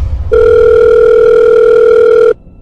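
A telephone tone sounds while a call is being placed: one steady, loud electronic tone holds for about two seconds, then cuts off abruptly.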